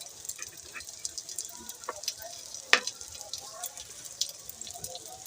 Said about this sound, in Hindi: थोड़ा सा ऑयल और डाल देंगे, यानी कि घी, ताकि ये अच्छे से क्रिस्पी हो।